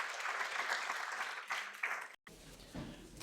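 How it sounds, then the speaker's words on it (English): An audience at an Earth observation conference gives panelists a round of applause, a brief burst of dense clapping that stops suddenly and then resumes more faintly. "please give a round of applause to our panelists"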